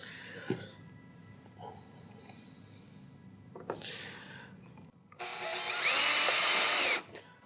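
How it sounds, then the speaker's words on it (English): A power driver running a screw into a plastic Hobie Mirage Passport 12 kayak, heard as a single close, loud whirring burst of about two seconds after some quiet handling knocks. "As these screws are going in, they're cutting threads into the plastic"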